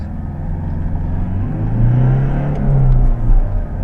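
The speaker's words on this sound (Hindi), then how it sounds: "raving the engine and it goes to 4000 RPM very easily" A BS6 Toyota Innova Crysta engine revved up to about 4000 RPM, a loud close hum that swells smoothly and holds before easing off slightly, with no speech.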